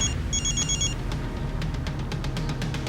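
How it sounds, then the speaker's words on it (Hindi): A phone rings in short electronic trills over a low background rumble, the ringing repeating a few times early on. "एक मिनट, फोन आ रहा है"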